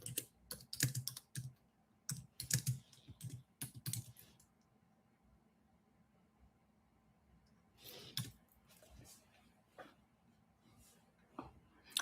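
Bursts of quick typing on a computer keyboard, close and clicky, come in two flurries separated by a quiet pause.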